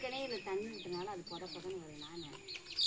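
Hens and small chicks clucking and cheeping in a backyard garden, several close calls in an uneven, chattering rhythm over a light background of human voices.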